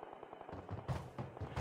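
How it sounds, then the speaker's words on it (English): Rapid automatic gunfire in a battle royale game, fairly faint and distant, with bursts of quick shots rattling in an irregular rhythm. "I hear shooting."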